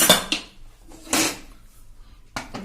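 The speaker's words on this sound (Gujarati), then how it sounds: "ખોલી લેશું કુકર।" A metal pressure cooker of boiled vegetables is opened in a home kitchen, giving three sharp, close metallic clanks of lid and pot separated by quiet pauses.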